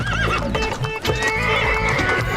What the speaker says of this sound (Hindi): फलों की टोकरियां और खाने के पतीलों को घोड़ा गाड़ी में लेकर निकल पड़े। घोड़ा भागने लगा